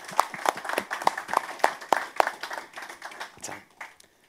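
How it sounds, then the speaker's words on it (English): A church congregation claps hands, a small group with distinct, sparse claps that thin out and fade toward the end. "can we give them a hand clap"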